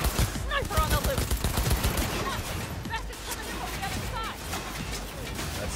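Gunfire in a Cyberpunk 2077 firefight with a sniper: rapid, overlapping sharp shots crackle in dense bursts, then thin to scattered reports over busy combat noise.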